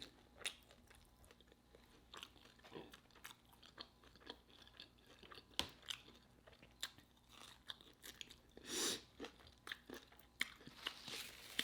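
Close, crunchy bites and chewing of Popeyes Sweet N Smokey Chipotle chicken wings, irregular crisp crackles and wet mastication sounds at varying intensity, with no talking.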